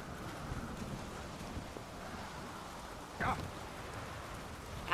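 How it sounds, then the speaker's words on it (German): A storm in The Witcher 3: Wild Hunt, with steady rain hissing throughout and a brief sharp crack partway through, the weather sounds fairly quiet and even. "Ein Sturm."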